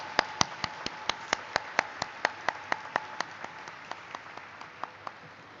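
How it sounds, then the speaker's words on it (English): A small audience at an IPO listing ceremony on the National Stock Exchange of India gives sparse applause: about twenty distinct, evenly spaced hand claps at a steady pace, loud at first and gradually tapering off. "why not we welcome today's ceremony with a huge round of applause for Canara HSBC Life"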